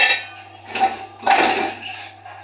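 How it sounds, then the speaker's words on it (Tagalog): A large cooking pot, a casserole, is pulled out and handled in a home kitchen, giving a few close metallic clanks and scrapes with short rattles between them, with no talk. "nalabas ako ng isang kaserola."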